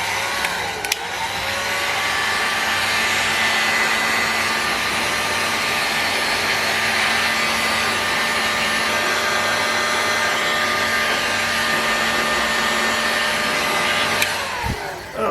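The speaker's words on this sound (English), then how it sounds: "heat this crankcase and crankshaft up" A heat gun blows steadily and loudly on a model aircraft engine's crankcase and crankshaft, an OS FS 70 Surpass, a constant whirring hiss with a faint tonal whine, running alone from start to finish and cutting off near the end.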